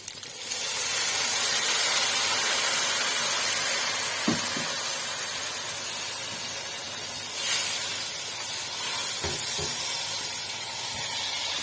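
A steady, loud hiss of water hitting a hot pan, sustained throughout with a few faint clinks of utensils and no talking.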